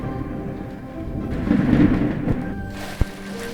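Thunderstorm sound effect used in a children's Sunday school story about a storm at sea: a low rumbling roll of thunder swells and fades, with a sharp crack near the end over a constant rainy hiss.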